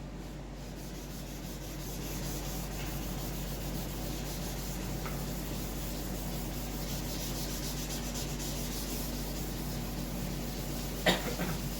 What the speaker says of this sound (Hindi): मैं इस बोर्ड को जो है यहाँ से रब कर दे रहा हूँ पूरा।